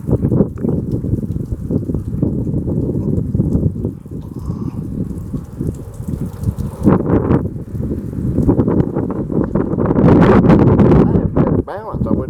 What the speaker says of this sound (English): that wind is strong